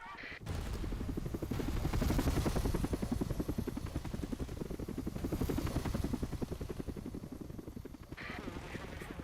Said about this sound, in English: There are all the helicopters we've been hearing.